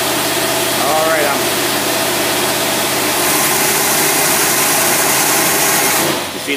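A 454 big-block engine fed by a Carter AFB carburetor revs up to its 5,500 rpm rev limiter, a loud, steady, sustained roar that holds near the microphone before dropping off at the end.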